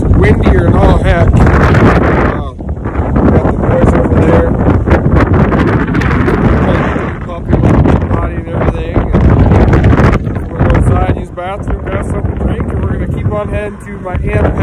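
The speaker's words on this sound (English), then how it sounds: "It's windier and all heck." Strong wind buffets the microphone outdoors in Nebraska on a hot, blustery day, a loud, continuous rumbling roar that surges and dips throughout, with a person talking over it.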